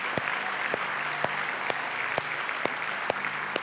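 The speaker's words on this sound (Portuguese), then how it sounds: "Você pode dar uma salva de palmas a Jesus" A church congregation applauds steadily for a few seconds: a dense, even wash of many hands, with a few louder claps cutting through at a roughly regular beat.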